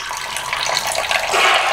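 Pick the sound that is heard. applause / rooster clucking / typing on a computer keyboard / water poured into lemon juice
water poured into lemon juice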